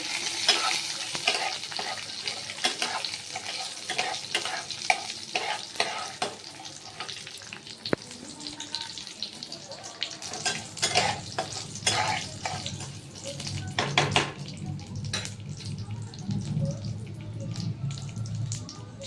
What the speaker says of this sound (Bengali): পাঁচ ফোড়ন দিলাম দিলাম দিয়ে এবারে এটাকে একটুখানি নাড়িয়ে নিচ্ছি